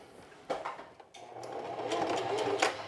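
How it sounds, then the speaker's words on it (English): A sewing machine stitches a knit neckband in short bursts, pausing briefly before running steadily again, close and clear with no talking. "So now I'm going to re-sew this section."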